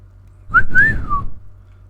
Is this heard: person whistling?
yes